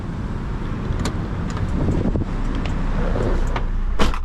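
A 2005 Perodua Kembara 1.3 EZ DVVT automatic on a test drive, with a steady low engine and road rumble inside the cabin and a few sharp clicks and knocks from the interior.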